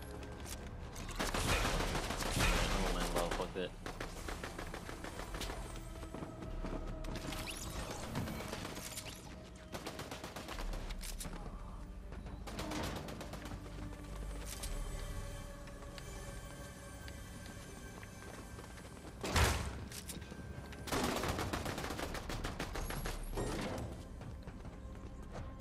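Gunfire in the video game Fortnite, with rapid bursts and scattered shots across the match, some close and loud, others more distant, over steady game ambience.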